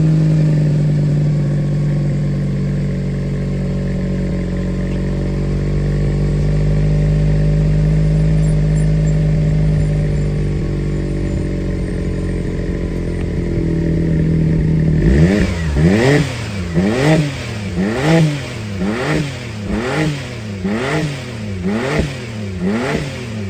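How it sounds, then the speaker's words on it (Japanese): Suzuki Wagon R (MH21S/MH22S) engine with a sport muffler idling with a deep, throaty rumble, then revved repeatedly in quick blips that rise and fall, loud and close. "それではこれから実際にエンジンをかけるんですけども"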